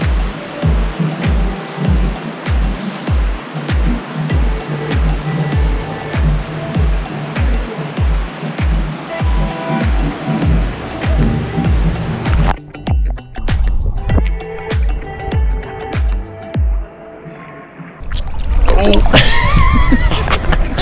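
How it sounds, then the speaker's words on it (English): Water jets gush in a German thermal spa pool, a loud churning splash with rhythmic pulsing surges close by, ending in a heavier rushing burst, with people talking over it. "there's multiple spots where there's like big gusts of water"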